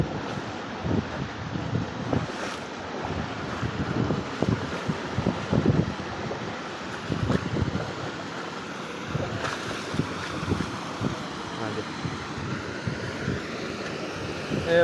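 Rainwater running through a village street during a downpour, a continuous rushing, washing flow with gusty noise on the microphone. It is moderately quiet and steady over the whole stretch, with no voices clearly heard.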